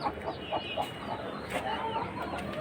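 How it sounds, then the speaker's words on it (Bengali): Hens clucking in a rooftop coop under a shed, a flock of about fifteen grown birds with chicks, giving repeated close, busy clucks and brief calls over steady background noise. "আর এর মধ্যে আছে কিছু মুরগি।"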